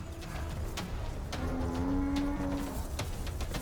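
A buffalo herd lows in long, deep moos while under lion attack, against outdoor rustling and scattered thumps, a bellow rising in the middle, moderately close.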